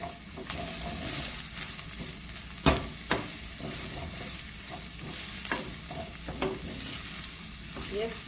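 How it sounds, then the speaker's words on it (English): Chopped onions frying in a pot for Jamaican pumpkin takari, a soft continuous sizzle broken by repeated scraping and clacking strokes of a spoon stirring, fairly close and without voices. "Then I'm going to add my chopped onions. Stirring for a few minutes."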